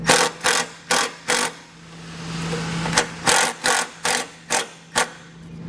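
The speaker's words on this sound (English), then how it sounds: "take some self-tapping screws and secure this to the bracket" Power driver spinning self-tapping screws into a metal bracket on a base plate: a series of short, evenly spaced whirring bursts in two groups, with a longer steady drive between them, close-up and clear.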